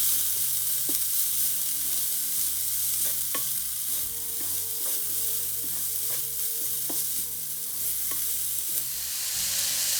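Bitter gourd and finely chopped leek sizzle steadily in a hot pan, a continuous close frying hiss broken by occasional stirring clinks and scrapes, with no voices.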